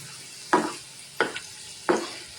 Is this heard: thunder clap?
no